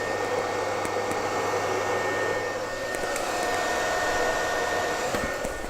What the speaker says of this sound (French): La seule chose que je pourrais modifier sur cette imprimante, c'est les ventilateurs qui sont particulièrement bruyants.